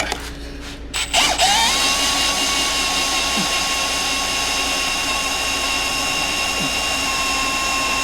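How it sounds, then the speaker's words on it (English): A power drill bores 5/8 inch holes into a 1996 Ford F350 during a 2WD to 4x4 swap. It starts with a couple of short bursts, then holds a loud, steady high whine that runs nearly uninterrupted. "Got all of our holes drilled for one side, 5/8 included."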